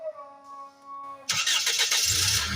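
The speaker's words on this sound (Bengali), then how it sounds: "আপনারা দেখতে পারলেন যে হাফ সেলফে ইঞ্জিনটি স্টার্ট হয়ে গেল" A Toyota Hiace van's engine catches after a brief starter crank on the first try, starting from quiet hum into a loud, close, broadband roar that settles into a rough idle.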